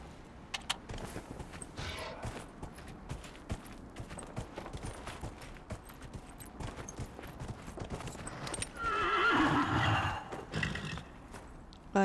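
A horse in Dragon Age Inquisition clops along with steady, quick hoofbeats over ambient game sound, then gives a short, fuller whinny before the hooves continue.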